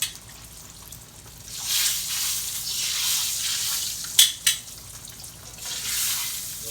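Green tomato slices and yellow squash fry in hot oil, giving a steady close sizzle that swells after a moment, with two sharp clicks of utensil or pan partway through.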